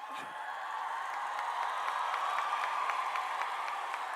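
Steady audience applause fills a hall at a youth climate-activism rally, a broad wash of many hands clapping at even loudness throughout with a faint crowd murmur underneath.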